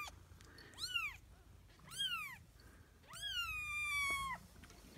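Several young kittens, eyes just opened, meow and cry in loud, close, drawn-out calls, three separate bursts with brief pauses, the last one longest and most insistent.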